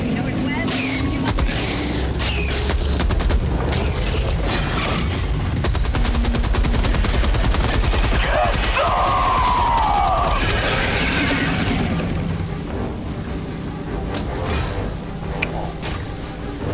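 Game turret firing in rapid, dense bursts of machine-gun-like shots, loud and continuous for about twelve seconds amid booming game effects, then thinning out toward the end.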